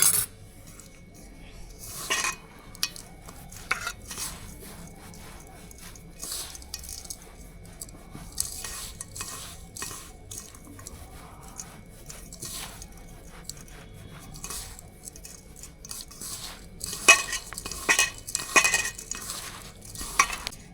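Dry herbal powder mixture rubbed and crumbled together by hand, a close, soft, irregular rustling and grinding with occasional sharper scrapes, no voices over it.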